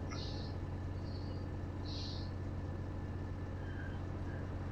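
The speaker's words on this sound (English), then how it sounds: "Fire the truck back up." A heavy truck engine in American Truck Simulator runs at a steady low diesel rumble with a constant drone, broken by brief hissy air bursts, close and loud with no voices.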